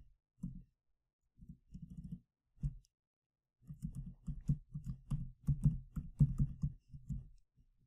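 Shared key for a site-to-site VPN typed on a computer keyboard: bursts of quick, close key clicks, with a short flurry, a pause, then a longer dense run of steady tapping, no voices.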